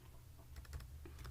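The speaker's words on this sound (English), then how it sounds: "Here, if I type something like admission number" Keystrokes on a computer keyboard while entering a field name in a database table, a brief cluster of soft, quick clicks close by over a low background hum.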